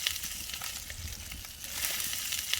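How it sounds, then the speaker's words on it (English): Wieners browning in a pan for curried wieners sizzle and spatter in a continuous, fairly loud frying hiss, with no voices. "We're just browning off the wieners to get them into the pot."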